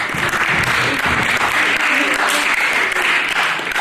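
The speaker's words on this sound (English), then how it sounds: "Let's give them a round of applause, ladies and gentlemen." Audience applauding at a hypnotist show at an after-prom event, a dense, steady wash of clapping filling the whole stretch, loud and close, with some voices mixed in beneath.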